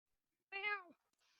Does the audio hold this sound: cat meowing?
yes